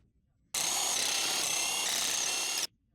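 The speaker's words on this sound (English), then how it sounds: "Use the 18mm deep socket with a short extension and impact wrench to remove the lug nuts." An impact wrench on an 18mm deep socket with a short extension spins off a lug nut on a Jeep Wrangler JK, one loud continuous burst of about two seconds that starts and stops abruptly.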